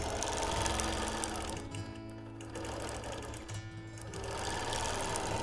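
A sewing machine stitches a quilted piano-keys border along a ruler, its rapid steady needle chatter running loud and close, with two brief slowdowns midway before resuming at full speed.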